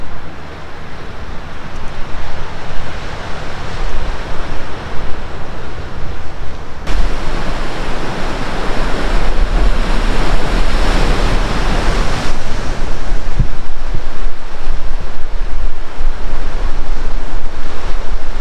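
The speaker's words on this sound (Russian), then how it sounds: "Здесь накат прям так попадает об этот камень, шикарно." Loud Black Sea surf roars continuously close by at Foros, Crimea, with waves breaking and surging against rocks under gusts of wind noise. A voice speaks briefly.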